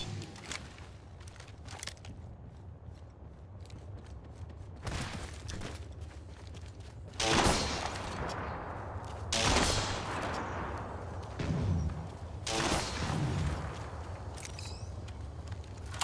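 Gunfire from a shooter video game, with several loud bursts of shots around the middle and later part, over a steady low background hum.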